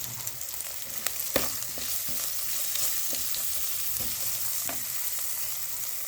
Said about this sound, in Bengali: নুন দিয়ে দেবো, দিয়ে এটা তাড়াতাড়ি ভাজা ভাজা হয়ে যাবে।